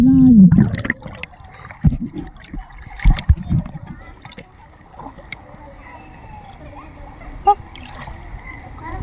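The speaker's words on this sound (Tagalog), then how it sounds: "Malakas kasing agos. Sobrang lakas ng agos." A strong river current rushes and splashes close by, with loud bursts of water and voices talking over it at the start, then settling into a steadier wash.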